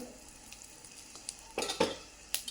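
Cumin seeds fry in a pan with a soft hiss, then a few brighter sizzling bursts and light utensil clinks near the end, quiet and close.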